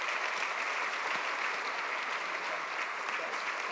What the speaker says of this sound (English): So one final round of applause for all of our participants.